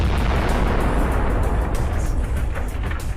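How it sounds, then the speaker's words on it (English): A kamikaze drone strike detonates a tank's ammunition, producing a sustained, loud, rumbling explosion roar that fills the whole stretch with dense low-end blast energy and no pauses. "The explosion was so powerful that the tank's turret was blown off."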